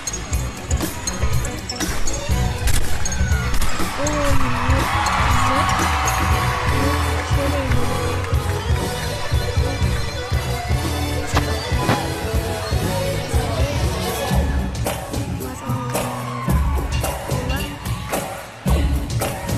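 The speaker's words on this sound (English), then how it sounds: "Crowd goes wild for that opening double layout" An enthusiastic crowd roars and whoops continuously at a dance performance set to songs, a loud, sustained wash of cheering with music and chatter underneath.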